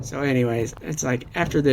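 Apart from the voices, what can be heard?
None of the usual background noises is heard.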